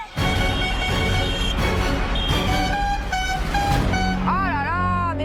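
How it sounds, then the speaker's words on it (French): Several car horns honk loudly and continuously in busy traffic in Guwahati, India, overlapping blasts of different pitches, one voice briefly audible beneath. "Fermez-la avec vos klaxons."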